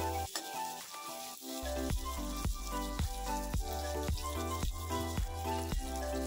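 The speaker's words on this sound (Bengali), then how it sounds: "কাসুরি মেথি একটু ভালো করে ভেজে নেব এগুলোর সঙ্গে।" Kasuri methi fries with cashews and whole spices in a hot pan, giving a steady, dense sizzle broken by regular scraping strokes of a spoon throughout, without any talking.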